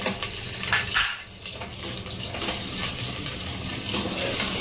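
Curry leaves and sliced onion frying in hot oil in a cooker for Mangalorean-style chicken sukka give a steady, close sizzle with light scraping and clinks of utensils throughout.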